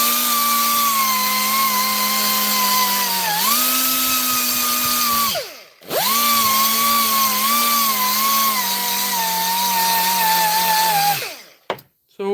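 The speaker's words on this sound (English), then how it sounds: "So making sure to keep the 2-inch sander flat to which surface I'm sanding." A 2-inch dual action sander whines steadily at close range on a Honeywell Turbovisor DTVR being refurbished, its pitch shifting slightly as it works, with a short stop midway before running again.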